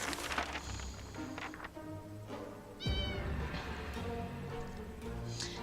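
Sharikov the cat meows repeatedly inside a survival shelter in the 60 Seconds game, clear and fairly close, alongside game sounds and light footsteps.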